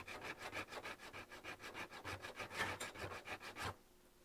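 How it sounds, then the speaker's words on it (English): Emery cloth is rubbed quickly back and forth along the edges of a name tag, a close, faint, rhythmic scratching of about twenty even strokes that then stops. "you can sand the edges"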